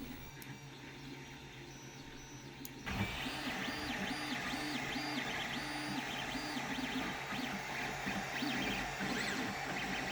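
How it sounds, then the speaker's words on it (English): Repetitive whirring stepper-motor tones rise and fall in a steady pattern, mechanical printing noise running continuously after a quieter start. "So I turned to my 3D printer."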